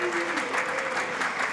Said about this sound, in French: De timides applaudissements